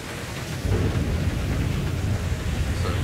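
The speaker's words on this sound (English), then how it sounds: "Some serious thunderstorm here." A low, heavy rumble of thunder rolls in over steady rain, loud and sustained, during a thunderstorm in Grand Theft Auto V.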